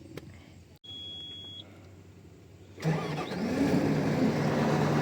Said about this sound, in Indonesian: di sini dapat kita lihat kalau mesin sudah hidup